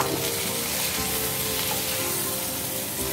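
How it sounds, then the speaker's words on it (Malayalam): Previously fried chicken stirred into a hot pan for a wedding-style Kerala chicken roast, giving a steady, dense sizzle with faint scraping of the stirring throughout, close and continuous with no talk. "ഇനി നമുക്കത് നേരത്തെ ഫ്രൈ ചെയ്ത് വെച്ച ചിക്കൻ ഇതിലേക്ക് ചേർക്കാം. നന്നായിട്ട് ഒന്ന് മിക്സ് ചെയ്യാം"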